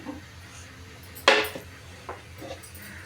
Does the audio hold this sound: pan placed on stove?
yes